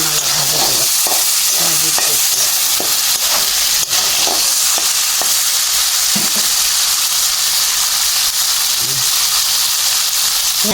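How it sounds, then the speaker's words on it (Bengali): Chickpeas fry in a pan with salt and turmeric, a loud continuous sizzle and hiss with repeated scraping stir strokes, close up, with occasional faint talk underneath. "লবণ হলুদ দিয়ে চানালা ভাজা দেবো।"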